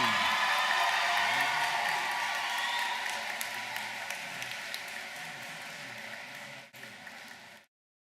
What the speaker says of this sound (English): Let's have one more round of applause for the 8th grade class of 2022.